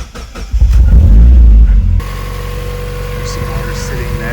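A Mazda Miata engine cranks and catches with a loud rumbling start, then settles into a steady idle; the car's engine bay is wet with water.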